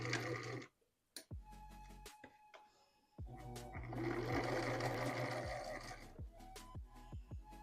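Sewing machine stitching a cuff onto a blouse, loud close bursts of rapid mechanical whirring with a short pause near the start, then a long steady run and stop-start stitching, no talking.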